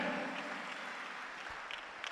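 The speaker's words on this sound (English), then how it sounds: "Give Jesus a clap of prayer" Church congregation clapping in praise during a testimony service, a faint, distant wash of applause that stays low and steady throughout.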